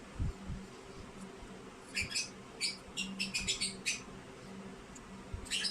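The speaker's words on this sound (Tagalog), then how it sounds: "Maganda pakinggan, di ba? Uni ng ibon." Quick high chirps from small birds come in short clusters, faint against a low background hum.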